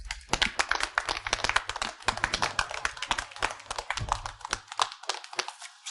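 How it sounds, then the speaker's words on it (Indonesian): Wedding guests clap for the newlyweds: a steady run of sharp, close handclaps that rise and dip over the whole span, with a brief pause near the end. "mari kita berikan tepuk tangan yang meriah untuk menyambut pengantin baru"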